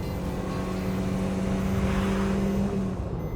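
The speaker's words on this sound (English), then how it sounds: "There's a nice snarl in the top end, and the engine always stays smooth and happy to rev." A 2021 Maruti Suzuki Swift engine revving, a steady droning snarl with a sustained engine tone that holds level across the clip, loud and close, with no voices.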